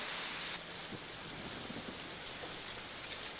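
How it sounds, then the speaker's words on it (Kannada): Steady wash of heavy rain falling in Chikkamagaluru district, a dense even hiss with scattered drops pattering on surfaces, continuous throughout with no voices. "ಚಿಕ್ಕಮಗಳೂರು ಜಿಲ್ಲೆಯಲ್ಲಿ ವ್ಯಾಪಕವಾಗಿ ಮಳೆ ಆಗ್ತಾ ಇದೆ ಈ ಬಾರಿ"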